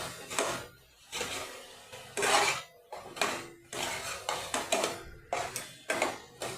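Spices stirred and fried in a pan for chole masala, a repeated scraping and clanking of a spoon against the metal pan in irregular strokes, close and clear, with no talking.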